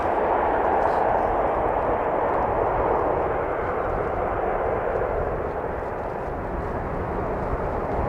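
Broadband jet roar of a passenger aircraft landing in a crosswind at Christchurch International Airport in wet, windy weather, a steady loud rush holding throughout with a slight fade near the end.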